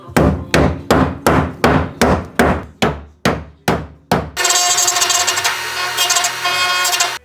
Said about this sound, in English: I am literally just gonna use a hammer